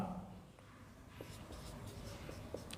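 Chalk or marker scratches and taps across a board in a Sanskrit grammar class, with faint short strokes over a steady room hum.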